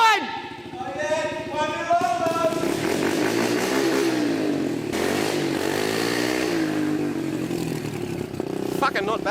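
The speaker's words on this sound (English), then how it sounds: "Schmitto, you got that pocket bike going" A small pocket bike engine runs close by, a buzzy, rattling two-stroke note that rises and falls in pitch as it revs, with voices talking over it.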